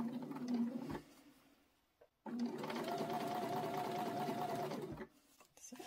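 A sewing machine stitches through a pencil case made of several fabric layers, with a hump jumper keeping the presser foot level. It runs in two steady bursts, a short one and then a longer one, with a brief pause between them.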